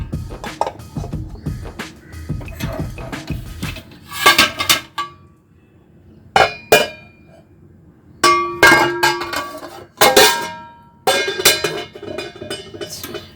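A lid clangs down onto a preheated kadai on a home kitchen stove, with several sharp metallic clanks and clinks of pots spaced over a low background hum.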